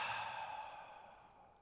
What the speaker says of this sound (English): Double exhale.